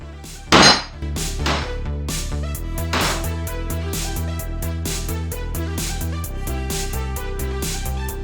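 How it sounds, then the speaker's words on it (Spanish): A hammer strikes a small wooden block set against an engine part during assembly of a Fiat 147 engine's pulleys and flywheel, giving a series of sharp, close knocks in steady rhythm, with no talk. "con este bloquecito de madera le damos unos golpes con el martillo"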